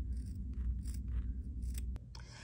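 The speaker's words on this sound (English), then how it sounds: "so then you're also gonna trim your little corners like this" Scissors trimming the corners of a sewn fabric drawstring bag: several quiet, close snips in an uneven rhythm over low background hum, with no speech.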